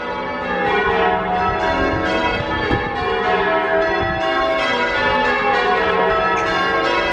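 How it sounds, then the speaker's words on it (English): Church bells of St. John the Baptist church ring continuously, loud and close, their overlapping peals forming a dense, sustained clangor with no voices. "You just have to follow the sound of the bells."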